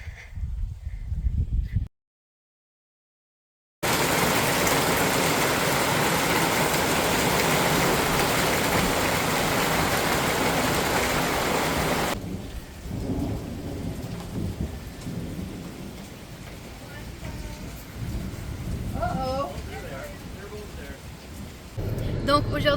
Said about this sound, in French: de pluie, j'imagine, avec des éclairs, puis du tonnerre